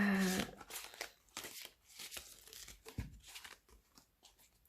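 Tarot cards of an awkward shape being shuffled by hand, a soft continuous riffling and rustling with crisp flicks, close and fairly quiet, with a brief voice underneath.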